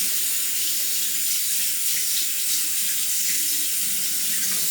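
Tap water runs steadily into a sink to rinse a razor, a continuous close hissing splash with no break and no voices.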